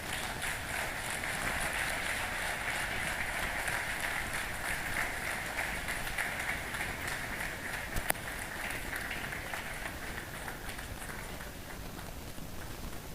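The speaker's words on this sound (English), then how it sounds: "Thank you for that rapturous applause." Steady, even applause from an audience at a conference, a continuous wash of clapping heard at moderate distance with one sharp click partway through.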